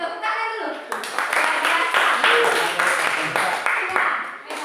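A classroom audience claps in a dense, steady burst that starts after a brief moment and keeps going at a fairly loud level, with a voice heard faintly at the start.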